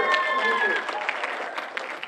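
An audience claps at a TEDx talk, a dense, steady patter of many hands filling the room, with a voice speaking over the applause.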